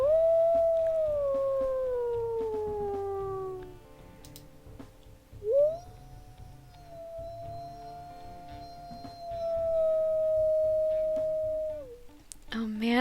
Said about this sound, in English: Howls?